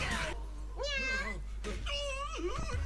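A cat in the video game Zenless Zone Zero meows twice, clear and close, with drawn-out wavering cries over a steady low in-game background hum.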